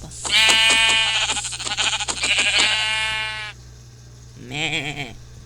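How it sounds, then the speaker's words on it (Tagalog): A sheep in Minecraft Pocket Edition bleats loudly in a few rapid wavering calls close up, then gives one shorter bleat after a brief pause. "Na, may tupa."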